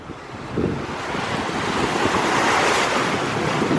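Ocean waves breaking on a coral shore on Negros Island, a loud, continuous wash of surf with wind buffeting the microphone, rising slightly as a wave rolls in.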